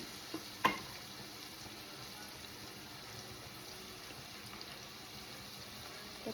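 Onions sauté with salt in a pan for an Indian-style zucchini curry, giving a faint, steady sizzle throughout, with a couple of small utensil clicks near the start and no talking.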